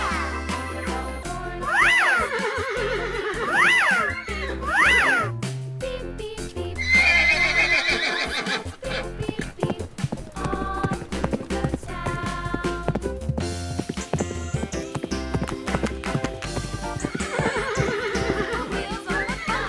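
Shrill, wavering horse neighs repeat a few times early on and again near the end, mixed with busy music and clattering effects from a children's animal-sounds bowling game.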